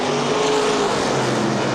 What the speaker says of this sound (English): Derek Hoffman in 59 out of turn number 2, getting passed by the 9 of Pete Warmcastle